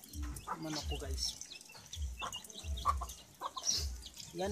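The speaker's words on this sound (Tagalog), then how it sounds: "Yan ang manok ko, guys." Gamecocks kept in condition for fighting cluck and call repeatedly at close range while being fed in the early dark before a typhoon in the Philippines, with someone talking over them.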